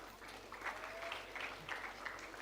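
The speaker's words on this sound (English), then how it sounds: "Keep cheering." Faint, distant audience applause at an MBA convocation ceremony, a soft steady patter of clapping with slight swells and no clear cheering.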